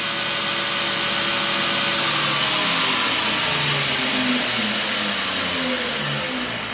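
A 2x72 belt grinder driven by a cheap VFD runs at full speed in reverse, giving a loud, steady motor whine with a broad belt hiss and slowly shifting tones throughout, close up and without speech.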